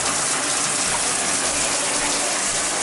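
Water from a shower head running steadily at strong pressure in an apartment bathroom, a continuous broadband hiss and splash with no pauses, close and fairly loud.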